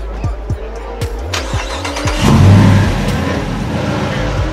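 Mopar 5.7-litre V8 fitted with a stock Hellcat airbox and Dyno Max exhaust, revving loudly on a dyno at a Mopar dyno day, with a steady roar and repeated rises in pitch building to a peak mid-clip.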